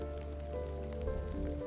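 Steady rain falls as a continuous, even hiss of drops on a surface, with a soft background hum and no voices.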